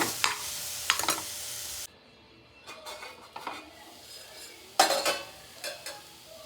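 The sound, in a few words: stirring beetroot in a pan while cooking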